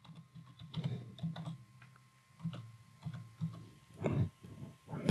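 Keys on a computer keyboard are typed in short bursts of soft clicks with pauses between, quiet and close, ending with a sharper keystroke and no speech over it.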